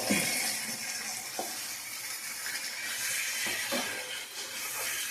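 Chicken frying in a pan for a large batch of curry, a continuous hissing sizzle with occasional scraping stirs from a utensil, close and fairly loud with no talking.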